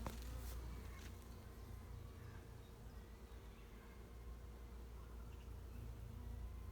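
Honeybees buzzing around a hive while a nucleus colony is moved into it, with some bees carrying yellow pollen; a steady, low, close hum of many wings runs throughout.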